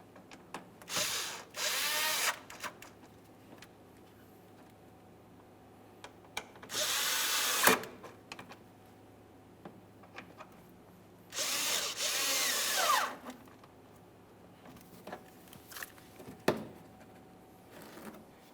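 Power drill driving fasteners into the fog light covers of a 2014-2018 Mazda 3, heard as several short bursts of close whirring spaced a few seconds apart with brief ratcheting clicks and handling noise between them, no talking.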